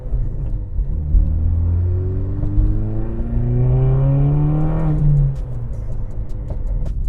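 A Chevrolet Cobalt engine rumbles steadily up close, its pitch rising and falling as it accelerates and shifts, then settles into a lower idle-like hum as it pulls into a shop.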